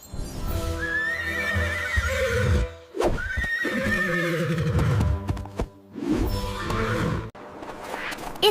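A horse neighs several times in loud, close whinnies with brief pauses between them, accompanied by clip-clopping hoofbeats and a musical backing.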